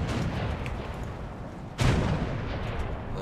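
Naval guns from a ship in the War Thunder video game let off a single loud boom midway through a continuous rumbling background of engine and sea noise, with no speech.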